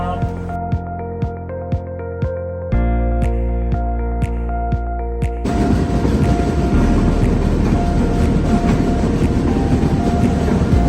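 Inside a passenger train on a trip from Mumbai toward Goa, sharp rhythmic clicks tick over a low hum, then swell into a loud, steady rushing rumble of the moving carriage.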